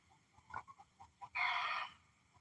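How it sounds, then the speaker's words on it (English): A chicken, probably laying an egg, gives several short clucks followed by a longer, louder drawn-out squawk, heard fairly faint and at a distance. "that's one of our chickens, probably laying an egg."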